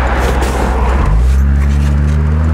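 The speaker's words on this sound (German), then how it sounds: "Die 6 Zylinder packen richtig gut zu." A 1970 Mercedes 280 SL Pagode with its six-cylinder engine droning steadily while driving, then the tone rises and settles into a strong, even, close engine hum.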